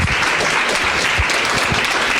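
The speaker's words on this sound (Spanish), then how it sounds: "Un aplauso, por favor." Sustained applause from a symposium audience on microbiota in health and disease, dense steady clapping filling the room for the whole stretch with no talk over it.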